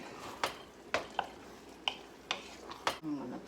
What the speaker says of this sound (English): Going to stir it.